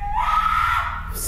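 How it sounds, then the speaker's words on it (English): A single sustained scream in a recording from a supposed haunting, loud and steady for about a second against low background rumble. "There's the screaming again. It's louder."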